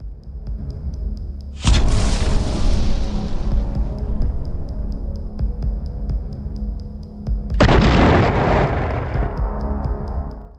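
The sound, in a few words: explosions of FPV drones hitting Russian artillery positions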